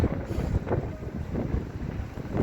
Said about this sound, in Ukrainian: як в нас вітряно